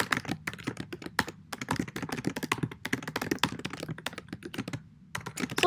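Rapid, uneven keystrokes on a computer keyboard as C++ code is typed, close and clear, arriving in quick bursts with brief pauses and no talking.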